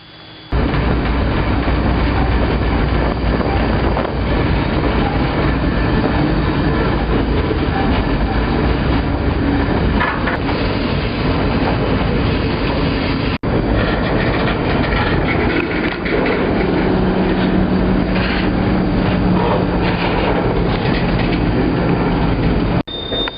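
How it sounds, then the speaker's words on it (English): A freight train rumbles along continuously and loudly, a dense steady roar with rattling and clanking of cars throughout, coming to a stop in the Hauser Yard. "the train is coming to a stop in the Hauser Yard"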